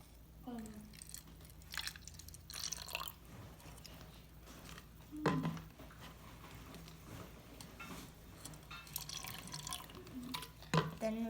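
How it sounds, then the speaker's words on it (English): Vinegar poured into a cup for a vinegar and baking soda experiment, heard as several short splashing, trickling bursts spread across the clip, fairly close and moderately quiet. "first we're gonna put vinegar in the cup."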